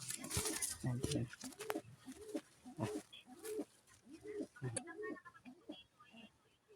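Pigeons coo in a steady rhythmic series of soft, low pulses close by, repeating roughly every half second, with people talking faintly in the background.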